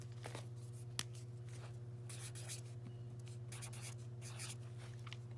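Pen writing a time by hand on paper, soft scratchy strokes in short bursts over a steady low hum, close and quiet.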